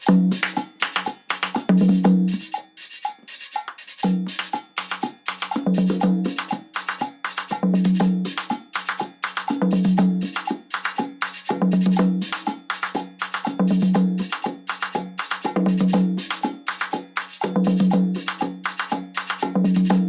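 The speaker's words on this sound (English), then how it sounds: "I'm using this jack stick right now with a soft tip because I'm playing the conga drum" A conga drum is struck in a quick, steady repeating pattern with a soft-tipped jack stick, a sharp clacky hit recurring throughout, loud and close with no voices.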